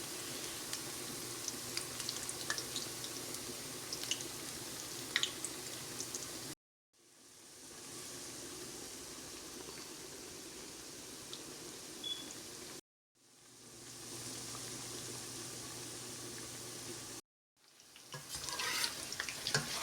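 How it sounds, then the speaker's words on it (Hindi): Minced meat pakoras shallow frying in oil, a steady sizzling hiss with soft stirring and scraping, broken by brief silent gaps before the sizzle resumes. "हम इसको शैलो फ्राई कर रहे हैं।"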